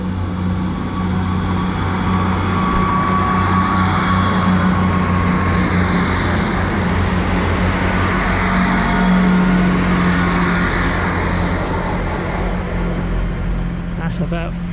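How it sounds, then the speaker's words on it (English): A train bound for Norwich rumbles steadily past the platform at Alfreton station, a continuous loud low drone with engine hum lasting the whole stretch, heard close by outdoors. "Well, there goes a train to Norwich."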